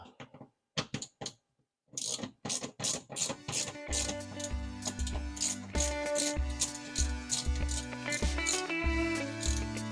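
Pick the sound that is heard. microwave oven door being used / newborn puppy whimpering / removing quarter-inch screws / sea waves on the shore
removing quarter-inch screws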